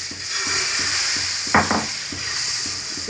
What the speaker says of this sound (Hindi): हमारी पैन गर्म हो चुकी है, अब हम इसमें ये इस पर ये बैटर डालेंगे